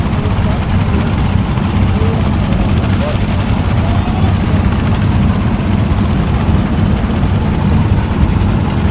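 Many trawler boat engines run on the Jadukata river, a steady loud low drone that holds without pause from start to end.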